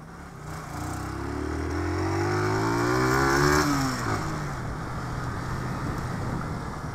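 A motorcycle with a quiet aftermarket exhaust revs up and eases off while riding with a passenger, its rising and falling exhaust note heard close over steady wind noise.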